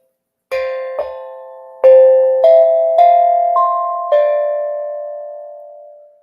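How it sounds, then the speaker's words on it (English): Clear metallic tones ring out one at a time from a struck tongue drum, about six notes in an unhurried melody, each left to ring and fade. "I also have this tongue drum."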